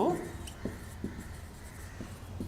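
Writing a sentence on a board during an English grammar lesson: faint, evenly spaced taps and light scratches in a quiet room, after a brief voice at the very start.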